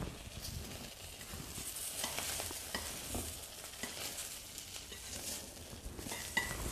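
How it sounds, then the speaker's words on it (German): Chicory frying in a pan, its cut side browning in oil with a steady sizzle, joined by stirring and light scraping at close range, with no talk. "Auf der anderen Seite auch noch kurz anbraten."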